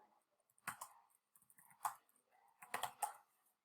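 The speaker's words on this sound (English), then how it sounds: "So here I'm just typing out the numbers for the values that are right there." Quiet bursts of keystrokes as numbers are typed on a computer keyboard, clustered into three or four short runs of clicks with pauses between, close and faint, with no talk.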